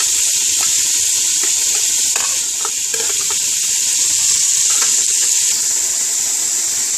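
Steady loud sizzling hiss of ginger-garlic paste, green chillies and tomato frying in a hot pan, with occasional spatters and a faint clink or two, no talking.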